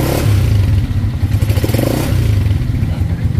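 Honda TMX 125 Alpha motorcycle engine revving after a digital speedometer install, a loud close chugging idle with pulsing low throbs and mechanical clatter, continuous and alone.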